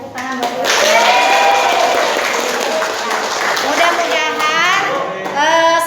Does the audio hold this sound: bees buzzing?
no